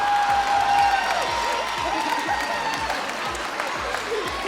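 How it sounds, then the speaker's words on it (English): Audience at a high school pageant applauds, a dense steady burst of clapping with a few whoops mixed in, fairly close and loud for several seconds. "Give a round of applause for Tyson Aiken"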